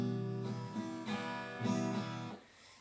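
A few guitar chords from a song strum in a slow, steady pattern over roughly three seconds, quiet and unaccompanied before fading out.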